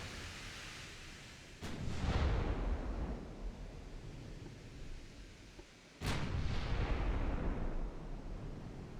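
Naval guns firing in a 1921-era strategy warship game, with a shell or ammunition detonation aboard the cruiser Leander: two heavy broadband booms a few seconds apart, each followed by a long rumbling decay, loud and without speech.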